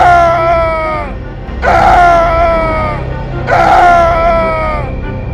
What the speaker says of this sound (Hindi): वो चीखा।